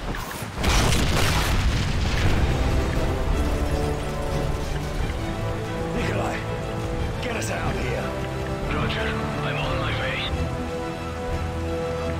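Heavy tank explosions in Call of Duty Modern Warfare 3 boom loudly at the start, then a dense rumbling roar of combat and debris continues beneath voices talking.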